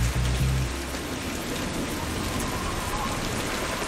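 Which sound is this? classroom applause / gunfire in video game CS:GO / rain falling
rain falling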